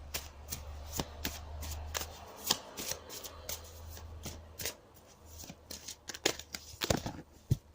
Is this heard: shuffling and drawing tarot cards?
yes